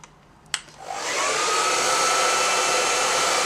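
A hair dryer switches on after a brief click and blows steadily and loudly during a salon blow-dry brushing, a continuous broadband whoosh with no talking.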